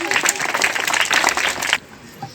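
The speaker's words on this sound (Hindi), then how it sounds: "जोरदार ताली से इस्तकबाल कीजिए" An audience at a Republic Day school event applauds to welcome a speaker, brisk clapping for nearly two seconds that stops abruptly, followed by quiet room noise.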